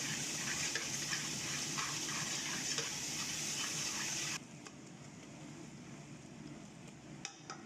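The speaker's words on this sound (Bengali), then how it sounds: "আদা রসুন দিয়ে ভালো মতো মিক্স করতে হবে" Ginger and garlic are stirred into fried onions in a pan, producing a dense, steady sizzle with scraping. It drops noticeably quieter partway through and then continues as a softer frying hiss.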